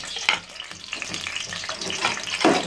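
Onions just added to hot oil in a pan on a light flame, a close, steady sizzle with a couple of brief stirring scrapes.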